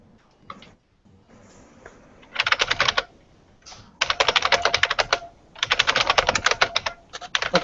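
Loud, sharp clicking from an IBM Model M keyboard being typed on, in rapid bursts of keystrokes separated by brief pauses, close and prominent against quiet background.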